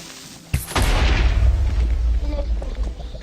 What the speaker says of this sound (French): Il a explosé, c'est pas grave.